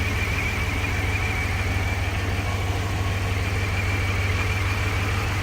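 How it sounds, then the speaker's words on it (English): A steady, unbroken low rumble of an engine idling just after its first start-up following a revamp, holding an even drone close by with no voices. "up front, you can hear the engine"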